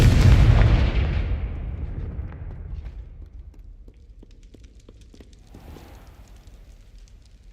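A Confringo fire spell explodes in Hogwarts Legacy with a loud, deep boom that decays into a long crackling, rumbling tail with scattered small pops, heard alone without speech.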